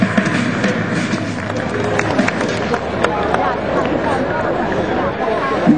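Crowd applause at a race ceremony, dense continuous clapping mixed with cheering and babble of many people outdoors, loud and sustained throughout.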